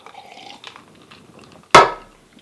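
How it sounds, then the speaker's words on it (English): A single sharp, loud crunch bursts out near the end of a quiet stretch of soft, faint sounds, like an animal biting into food; no one speaks. "There was only the sound of crunching and chewing as the animals attacked the succulent food."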